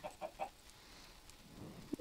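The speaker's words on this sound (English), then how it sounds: "Go away, chicken. I don't like you." Blocky chicken in a crafting video game clucks in three quick short bursts, then pauses and gives one more cluck near the end, faint and alone.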